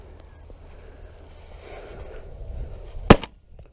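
A single sharp shotgun blast fired at pigeons over decoys on a laid barley field, close and loud, rising from quiet outdoor ambience with a brief echo afterward.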